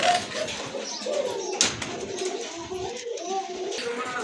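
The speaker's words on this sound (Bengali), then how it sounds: "এটা অবশ্য শাটিন কবুতর, একদম পিওর হোয়াইট কালারের ভিতরে হোয়াইট শাটিন কবুতর" White satin pigeons coo in soft, repeated low calls close by, with a brief rustle or flap midway and light background noise.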